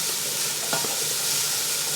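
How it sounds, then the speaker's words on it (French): Veal sautéing gently in oil in a pan, a dense even sizzle with a brief stirring scrape partway through, close and steady with no speech. "on va faire revenir légèrement, je vais rajouter un tout petit peu d'huile"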